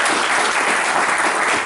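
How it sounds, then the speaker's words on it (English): Applause from the audience at a university grant award ceremony, a dense, loud and continuous roar of many hands clapping at once, close and unbroken throughout. "He really deserves a round of applause for his commitment to the students"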